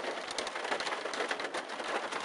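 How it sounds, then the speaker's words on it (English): Pea-size hail and rain fall in a severe thunderstorm during a March 2012 outbreak, making a dense, steady, close-up patter of hard hits with no pauses and no talk. "That is definitely pea-size hail."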